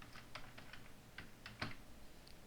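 Sparse keystrokes on a computer keyboard, typing the words college student into HTML code, land as light separate clicks, quiet and close with no talking.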